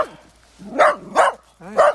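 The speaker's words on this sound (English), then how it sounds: "Oh, but you're not so barky." A dog barks three times close by, sharp, evenly spaced barks with brief quiet gaps between them.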